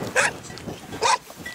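Two sharp, close barks from a guard dog watching over cows on a Central Balkan mountain trek near a hut, spaced about a second apart in an outdoor setting.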